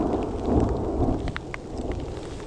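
Thunder rolls overhead during a spring snowstorm in Yellowstone National Park's backcountry, loud and close, with a steady patter of precipitation hitting nearby surfaces and no voices.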